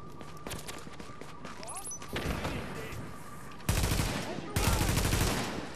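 Gunfire in The Division video game during a Dark Zone fight: scattered sharp shots give way to heavy, loud sustained bursts near the end.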